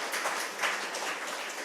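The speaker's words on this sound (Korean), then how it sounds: "박수 한번 쳐주세요." Christmas service congregation in a church clapping for a choir and its children, a dense, continuous wash of applause close by with no voices over it.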